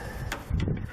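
Hydraulic hoses snapped into quick couplers on a Moose Country plow mount of a John Deere 4100 tractor, a couple of short close metallic clicks and clunks.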